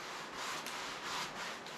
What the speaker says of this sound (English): Now I'm going to wipe them down with a little bit of mineral spirits. You can hear it.